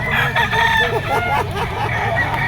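A young stag gamecock rooster crows loudly and up close, one long drawn-out cock-a-doodle-doo filling the whole moment.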